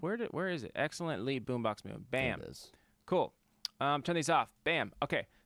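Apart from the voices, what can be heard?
No everyday noise stands out behind the speech.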